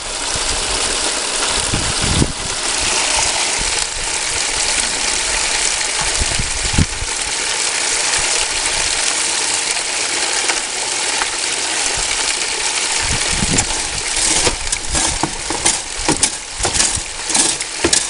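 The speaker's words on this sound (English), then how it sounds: "things are running great down the sluice" Water rushing steadily down an 8-foot DIY bucket high banker sluice lined with silicone mats, a continuous broadband wash with occasional gravel clatters, close and loud throughout.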